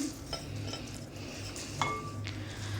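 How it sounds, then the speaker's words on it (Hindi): Green chillies for pickle are stirred together with spices in a metal dish, giving soft scraping and stirring with a few light clinks of a spoon against the pan, close and fairly quiet. "ये सारे मसाले लेके आपने इनको अच्छी तरह से मिक्स अप करना है, इस तरह से"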